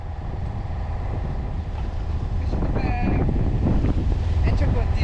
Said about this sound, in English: The wind was on and off throughout the day